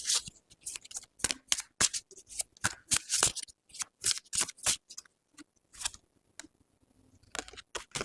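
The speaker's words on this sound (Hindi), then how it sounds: "एक कार्ड हम इधर से भी निकाल लेते हैं" Tarot cards being shuffled and drawn during a reading: a quick series of crisp card flicks and shuffling snaps, close and fairly loud, in irregular bursts with short pauses.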